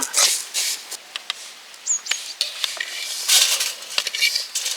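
Vermicelli being stirred and roasted in a pan at an outdoor forest cooking spot, with scraping metal-on-metal stirring strokes and light sizzling continuing steadily, no voices, faint bird calls in the open air.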